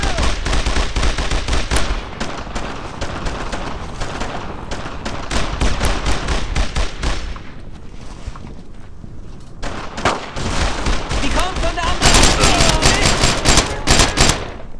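Dense, sustained gunfire from the World War II shooter Brothers in Arms, with continuous rifle and machine-gun bursts that ease briefly near the middle and then return as a loud, rapid volley of sharp shots.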